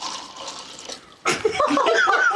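Water poured into a cup to mimic crashing island waves, a steady splashing pour that starts abruptly midway and continues loud to the end, following a stretch of softer background noise.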